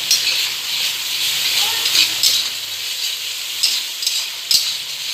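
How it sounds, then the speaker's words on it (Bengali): Spices frying and being stirred in a pan for egg and potato curry, with salt, turmeric, Kashmiri chili powder and coriander powder in the oil, giving a steady close sizzle and hiss with faint scraping. "মশলা সব একসঙ্গে একটু কষিয়ে নিতে হবে।"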